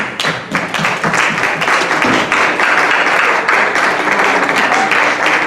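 Church congregation applauding together in steady, dense clapping that fills the room, loud and continuous throughout with no talking over it.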